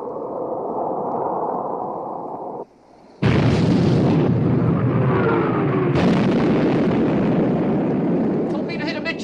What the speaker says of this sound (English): Torpedo hit amidship, sir.